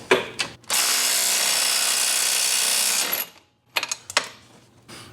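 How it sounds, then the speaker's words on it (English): A quarter-inch drive impact wrench loosening a tight lock nut gives one loud, continuous hammering burst of about two and a half seconds, followed by a few sharp clicks and handling knocks. "So we're gonna try the quarter drive impact."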